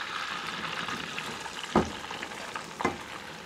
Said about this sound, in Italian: E adesso lo sommergiamo di cipolle.